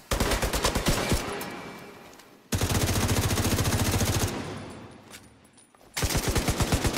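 Rapid automatic turret gunfire in the video game The Division, loud sustained bursts of repeated shots separated by short pauses.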